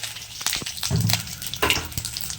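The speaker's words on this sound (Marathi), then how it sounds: "मोहरी आपली व्यवस्थित तडतडली आहे" Mustard seeds crackle and pop in hot oil as they are tempered for Maharashtrian katachi amti, with dense, close, irregular bursts over a bubbling sizzle.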